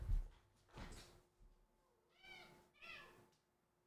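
A pet cat meows indoors, giving a few short separate calls spaced across the moment, fairly quiet against a still room with a soft knock near the start.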